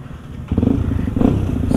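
A newly built 150cc motorcycle on a night ride to Lembang: a low idle rumble steps up abruptly into louder engine revving with a throaty, pulsing tone, swelling again near the end, close to the listener.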